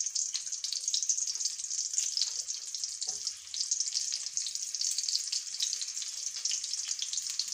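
Shallots frying in a pan for a dried fish head chutney give a continuous bright sizzle up close, with small fluctuating crackles and a brief dip midway, with no voices over it.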